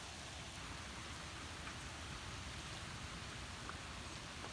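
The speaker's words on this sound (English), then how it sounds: "now it's like almost 3 o'clock, and it's just a downpour." Heavy afternoon downpour falls in a steady, dense roar of rain with no pauses, loud and close throughout, with no voices.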